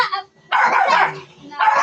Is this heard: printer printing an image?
no